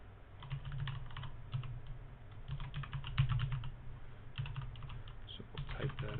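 Quick, close clicking of keys on a computer keyboard while entering a username during a Raspberry Pi setup, coming in irregular bursts with short gaps and no one speaking.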